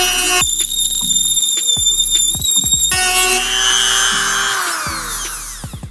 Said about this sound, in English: Now I'm switching back to the sanding drum and I'm gonna widen the hole straight in.